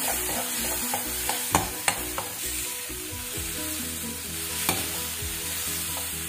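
Turmeric, ground coriander and chilli are stirred into frying bottle gourd curry, with a steady close sizzle and a few sharp spatula knocks against the pan near the start and once later, no talk.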